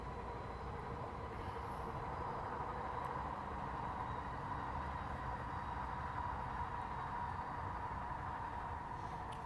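A steady, low rumble of a train rolling along, continuous and somewhat distant, with no voices.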